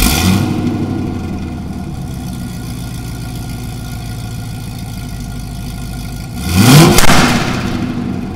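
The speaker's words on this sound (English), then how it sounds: "give it a brief startup so you can hear this beautiful sounding car" A 1996 Corvette C4 Grand Sport with Corsa exhausts idles with a steady low rumble, then sends out one loud, close rev near the end that swells and quickly settles.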